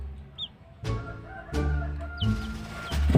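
Chickens cluck nearby in short, repeated bursts, with soft background noise between calls.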